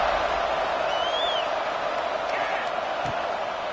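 Stadium crowd roars steadily from start to finish in a college football video game, Navy at Air Force, before a kickoff. The broad, even wash of noise has faint whistle-like tones riding on top.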